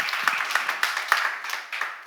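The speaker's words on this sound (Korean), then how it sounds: "박수 한번 주세요." A church congregation applauds during a sermon, a brief burst of many hands clapping together, dense and moderately loud with a few sharper claps standing out.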